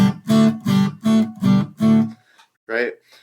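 A guitar is strummed in a steady, even rhythm of five close, bright strums, followed by a short pause and one more brief chord as it moves smoothly to the next chord.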